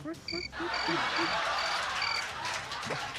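A cricket chirping sound effect plays during a Filipino talk broadcast: a series of short, evenly spaced high chirps over a noisy, hissy background, with no clear speech.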